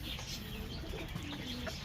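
Racing pigeons in a loft give soft, steady cooing and low murmuring calls, layered over a constant background hum for the whole stretch.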